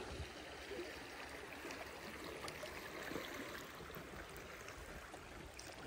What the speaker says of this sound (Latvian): Straujtecis te ir.